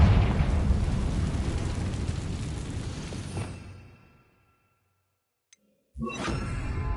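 A Confringo fire spell bursts in Hogwarts Legacy, a loud roaring blast with a whooshing rush that fades over several seconds into silence before another burst erupts near the end.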